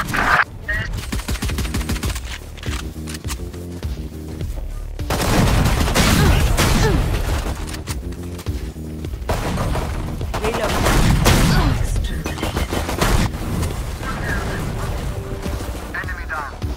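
Rapid gunfire in the video game Valorant during a gun game mod match, bursts of automatic shots and impacts recurring throughout, loud and up front, with game effects layered in.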